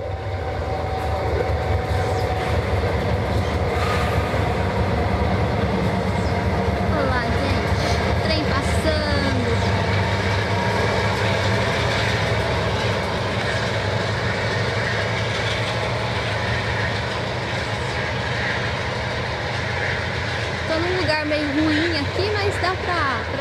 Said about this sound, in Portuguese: Esse trem tem tanto trem, né? Tá indo rumo a não sei aonde.